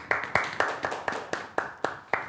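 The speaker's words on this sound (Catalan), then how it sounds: "aquí un fort aplaudiment per aquest primer premi" Scattered hand clapping for a first prize at a hospital Christmas event comes through as about nine distinct, evenly spaced claps, fairly close and moderately loud, with no talk.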